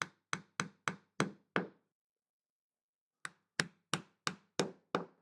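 Mallet blows drive a glued dowel into a wooden router sled frame: six sharp, evenly spaced knocks, a pause of over a second, then six more in the same steady rhythm, close and crisp.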